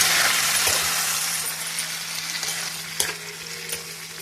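Gongura leaves dropped into hot oil fry with a steady, dense sizzle throughout, a few sharp clinks and stirring knocks rising above the hiss.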